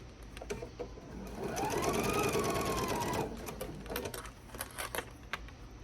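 Sewing machine stitching a reversible bag, a single sustained run of rapid needle clatter building in speed, close and clear, with softer handling taps before and after.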